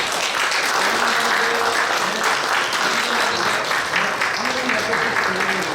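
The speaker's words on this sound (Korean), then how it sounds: "큰 박수로 축하해 주십시오" A church congregation at an installation thanksgiving service for a new representative president claps steadily and loudly, dense applause sustained throughout with murmured voices and talk underneath.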